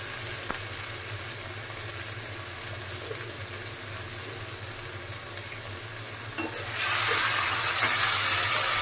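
Ginger garlic paste frying in a pan, a steady low sizzle that jumps to a loud, bright hiss partway through as more goes into the hot oil.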